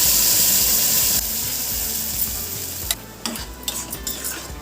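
Ground ridge gourd paste goes into hot mustard oil, a loud hiss that settles into a steady frying sizzle, followed by a few close clinks and stirring scrapes.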